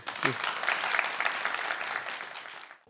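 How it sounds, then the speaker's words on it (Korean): Audience applause for a young tart-shop founder's startup story at a youth entrepreneurship talk, a dense steady burst of many hands clapping, fairly close, with a brief voice near the start, fading out after almost three seconds. "이때 박수 한번 주시던데."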